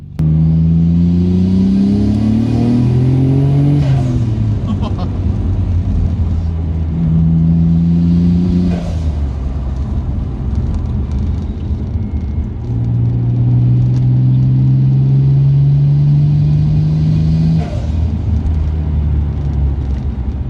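A Nissan Skyline R33 GT-R engine revs repeatedly through a deep, throaty exhaust with a new downpipe, its pitch climbing and falling in several long pulls over a constant low rumble.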